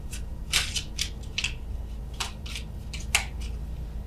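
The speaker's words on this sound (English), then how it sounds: "apologies for the shuffling here" Tarot cards being shuffled slowly by hand, a series of soft, crisp riffling bursts spaced irregularly, close and quiet over a low background hum.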